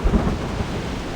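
A thunderstorm in the video game Reverse 1999, with a short, loud rumble of thunder over a steady wash of rain, with no voices.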